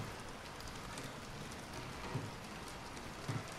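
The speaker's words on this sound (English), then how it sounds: "Let's just listen to the rain," Steady rain falls in the video game Bendy and the Dark Revival, a soft continuous patter heard alone at low level, with a couple of faint drip-like taps near the end.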